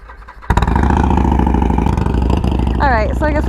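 A new Harley-Davidson Sportster motorcycle engine fires up loud and close after a brief quiet moment, settling into a steady throbbing idle while a person talks faintly over it.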